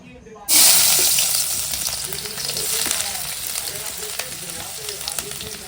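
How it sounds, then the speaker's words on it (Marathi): Onion dropped into hot oil for a Konkan wild-vegetable dish bursts into a loud hiss that settles into a steady frying sizzle, with faint stirring scrapes throughout. "कांदा परतून घ्यावा व्यवस्थित"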